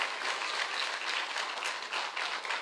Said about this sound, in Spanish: alguien que aplauda a Cristo